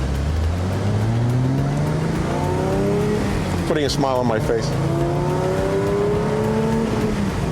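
A 2019 Porsche 911 Speedster accelerates hard, its engine note climbing through rising gears with a brief shift in the middle, loud and continuous beneath someone speaking.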